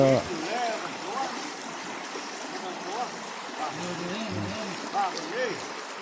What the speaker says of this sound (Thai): เป็นน้ำไหลไม่ใช่น้ำตกน้ำไหล